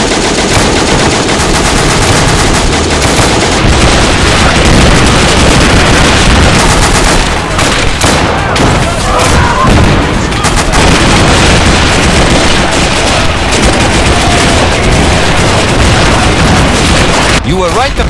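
Sustained machine-gun bursts and rifle fire with occasional heavy booms rage throughout a 1940 North African desert battle scene involving the Maletti Group, British anti-tank weapons and a tank, loud and dense with shouted voices under the barrage.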